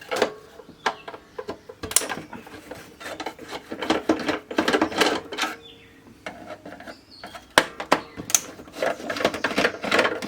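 Phillips screwdriver backing screws out of a Sound Design 4653 cassette deck boombox from the 1980s, close and quiet, with irregular clicks, scrapes and small metallic taps in bursts.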